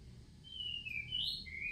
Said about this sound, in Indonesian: Banyak ada burung berkicau di pohon.